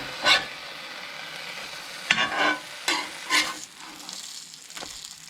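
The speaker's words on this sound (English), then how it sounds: "With this cooking in the skillet, ready to flip them." Chicken bacon ranch grilled cheese sandwiches frying in a skillet, giving a steady close sizzle broken by several sharp scraping bursts from a spatula, with no talking.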